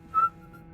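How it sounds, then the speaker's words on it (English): A single short, high whistled note from a person, brief and clear over a low background hum, then fading out. "It sounds like really weird whistling."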